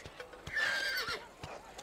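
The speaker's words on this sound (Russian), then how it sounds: "И лошадь." A single horse whinnies, a rising then falling neigh lasting about a second, fairly close, with a few soft hoof or tack knocks around it.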